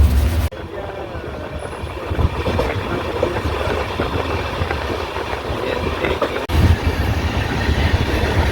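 Inside a moving passenger train headed to Ahmedabad, a steady rumbling roar with rattling carriage noise and wheel clatter, and a brief jolt near the end, while people chat over it.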